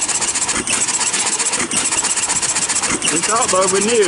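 Old hit-and-miss engine with overhead valves driving ice cream churns outdoors, a loud, rapid rhythmic chugging that runs throughout while a person talks over it.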